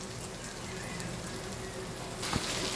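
Hotdog pieces and mixed vegetables of carrots, green peas and corn frying in a pan, a steady close hiss and crackle with a brief louder sizzle near the end, no talking.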